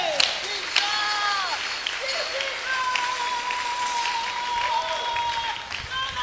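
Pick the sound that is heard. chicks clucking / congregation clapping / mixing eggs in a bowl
congregation clapping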